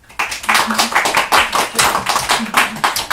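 An audience at a Rochester indie music spotlight applauds a band, with a steady run of close, bright hand claps pulsing in a fairly even rhythm for several seconds.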